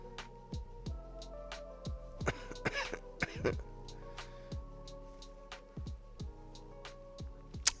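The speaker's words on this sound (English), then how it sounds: "Yeah, that's a nonchalant cough." Several short coughs and throat clearings sound close but faint against a quiet room, spread irregularly through the clip.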